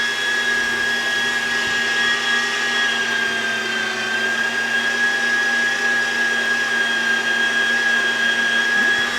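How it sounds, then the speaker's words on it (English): An $85 electric meat grinder with an auger feeding chunks of meat, running as a steady high motor whine with a constant pitched hum, loud and close, unbroken and without talk. "we'll go ahead and grind the rest of it up"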